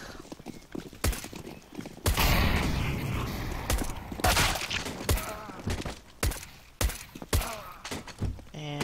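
Gunfire in a CS:GO zombies match, with a sustained burst of shots followed by a series of separate loud single shots, close and punchy, with no talking over them.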